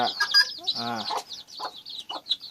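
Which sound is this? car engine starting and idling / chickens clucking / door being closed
chickens clucking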